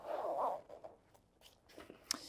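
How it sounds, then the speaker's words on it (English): Interior zipper on a Wotancraft Pilot camera backpack being pulled open, a soft rasping zip up close at the start, followed by quieter fabric rustles and a small click. "let's just open up the interior zipper here"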